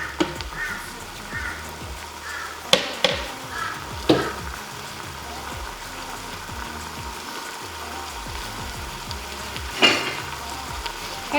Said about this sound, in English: you can hear it starting to sizzle in there